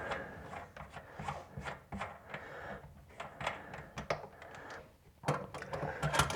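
Small plastic parts of an old Toto Washlet toilet seat unit scrape and rattle as it is unscrewed and pulled off in a tight spot, with irregular rubbing and clicking throughout.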